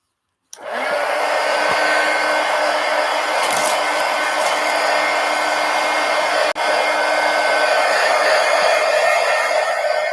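A hair dryer blows steadily on stacked art journal pages, switching on abruptly with a loud, even whooshing whir that holds constant, with one brief dip midway.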